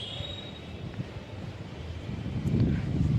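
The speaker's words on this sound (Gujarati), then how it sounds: "બહુ મસ્ત પવન આવે મિત્રો" Morning wind blows across a rooftop terrace, buffeting the microphone with a steady low rumble that swells louder toward the end, with no talking.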